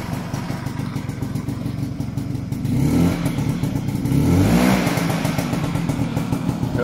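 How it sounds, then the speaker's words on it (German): A 1990 Vespa PK125 automatic scooter's small engine idles steadily, then revs up twice with a rising buzzing roar before settling back to a rough idle. "Hören wir uns das mal den Motor an"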